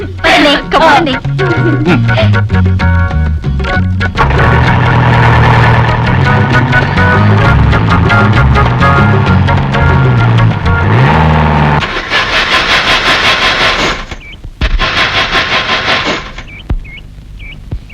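An overheating jeep engine runs and sputters at close range, its rough, mid-pitched drone rising and falling beneath loud background music, then cutting out before brief bursts near the end.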